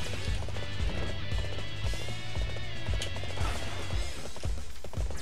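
Horse hooves galloping in Dynasty Warriors 8, a steady rapid clip-clop of hoofbeats over busy battlefield noise, loud and close, with an occasional whinny.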